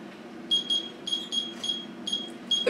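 A Taylor kitchen timer beeps in a repeating pattern of short high electronic pulses, loud and close, over a low steady hum in a kitchen.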